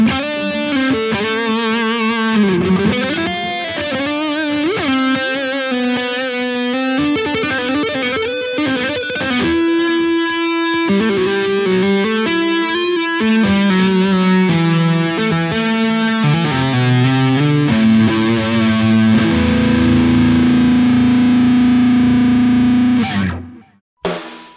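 Heavily distorted electric guitar played through the emulated output of a Blackstar Silverline amp, with continuous riffs, bends and sustained notes for over twenty seconds, loud and dense, ending abruptly with no voice.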